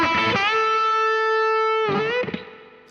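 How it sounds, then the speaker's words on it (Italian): Electric guitar played through a boost pedal placed at the end of the signal chain, raising distortion rather than volume; a distorted chord rings out, sustains for about two seconds, then a second strummed chord follows, with no talking. "la pasta del suono cambierà un po' perché di fatto ad aumentare è la distorsione"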